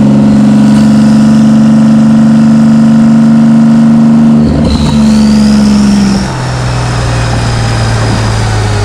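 A Porsche 911 991 GT2RS fitted with an IPE exhaust revs loudly and steadily, then its pitch shifts midway as the exhaust note drops and settles into a lower, rumbling drone.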